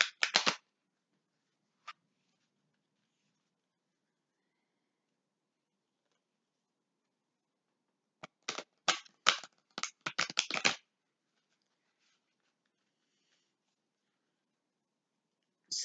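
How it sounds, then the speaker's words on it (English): A deck of oracle cards being shuffled at close range, with a short riffle at the start, a single snap, then a longer burst of rapid flicking, separated by near silence. "So I'm done shuffling."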